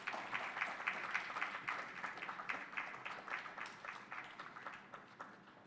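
A sparse audience at a birth-defects medical conference claps for the chairpersons, the individual claps distinct and rhythmic, fairly faint and slowly tapering off.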